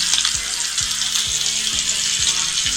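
T-bone steak frying in grapeseed oil in a cast iron grill pan, a loud, steady, close hiss of sizzling that runs unbroken, with low periodic thumps underneath.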